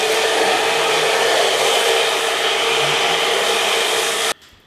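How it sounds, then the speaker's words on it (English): A handheld hair dryer blows steadily on its cold setting to set a pompadour with a fade, a loud, even rushing whoosh held for about four seconds before it clicks off abruptly. "finish off on cold air,"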